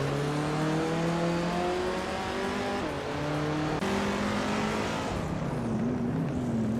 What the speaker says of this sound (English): the race kicks off at Circuit Hawaii, with Catgirl TM leading in a classic 1972 BMW CSL